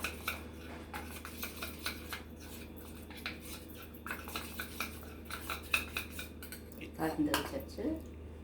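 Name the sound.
mixing maida flour with ghee in a bowl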